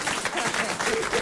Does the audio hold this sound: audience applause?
yes